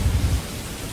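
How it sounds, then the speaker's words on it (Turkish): Steady hiss of heavy rainfall in the Roblox game Primal Pursuit, with a deep low rumble underneath, continuous and fairly loud. "Ne biçim yağmur yağıyor"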